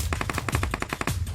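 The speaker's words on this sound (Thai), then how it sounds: "เสียงปืนอยู่ด้านหน้านะครับ" Rapid automatic gunfire in PUBG Mobile, about a dozen evenly spaced shots in a quick burst, sharp and fairly close, with no voices over it.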